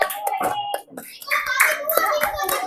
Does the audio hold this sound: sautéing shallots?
no